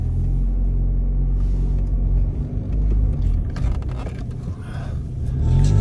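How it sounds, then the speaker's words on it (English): A car pulls out and drives off, a continuous low engine rumble and road noise filling the clip, loud and close from inside the vehicle, building slightly toward the end. "Taking my daughter's car for a ride to the gym."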